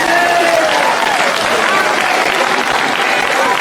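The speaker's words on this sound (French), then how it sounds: "L'auditoire acclame et est en joie." An audience in a church gathering breaks into loud, sustained applause and cheering, a dense wash of clapping and raised voices with no pause.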